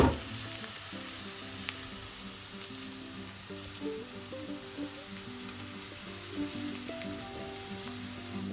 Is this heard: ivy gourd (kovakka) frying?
yes